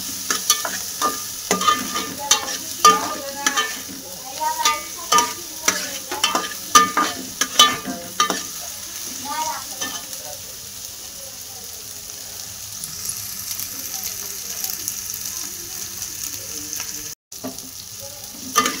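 Frying in a pan while a spoon stirs, rhythmic scraping bursts over a continuous sizzle that settles into a quieter steady fry in the latter half, no speech.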